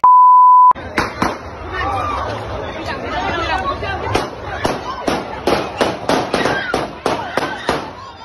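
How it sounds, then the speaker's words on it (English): Gunfire during a shooting in a market square, a burst of sharp cracks in uneven succession echoing over a babbling crowd outdoors, opening with a steady censor-style beep. "Market Square shooting captured on video."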